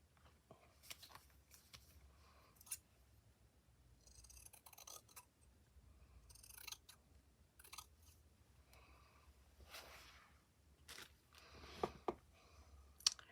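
Scissors snip through poppy stems in a quiet room, a series of short, crisp cuts scattered irregularly, some in quick pairs, against faint background hiss.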